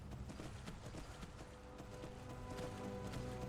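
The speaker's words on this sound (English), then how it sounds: "These are sturdy horses to cross rivers like this." Sturdy horse hooves in Skyrim while crossing a river: a soft, faint clip-clop rhythm over a constant low background rumble, with no voices.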